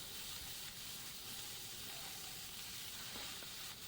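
Potatoes and jackfruit shallow frying in oil with turmeric, salt and chilli powder, giving a steady, soft broadband sizzle and hiss that holds evenly throughout with no talking.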